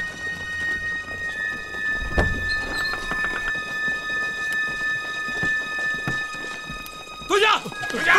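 A rain shower makes a steady hiss, with a dull thunder-like thump and some rustling. People can be heard moving and calling out in the background.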